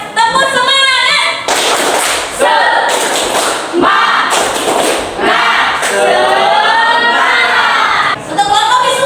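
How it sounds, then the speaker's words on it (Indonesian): A group performs a rhythmic spirit clap, bursts of clapping and thumps landing in a set pattern between loud chanted voices, all close and energetic. "Kita tepuk semangat dulu ya."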